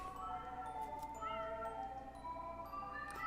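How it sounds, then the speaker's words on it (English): Several cats meow in a video game, drawn-out tonal mewing calls overlapping against a quiet steady background, with faint clicks and tinkles. "Look at all those cats."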